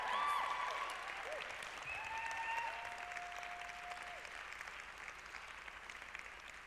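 Audience in a church service claps and cheers for Timothy, a dense burst of applause that starts strong and slowly thins over several seconds, with a few whoops rising above the crowd.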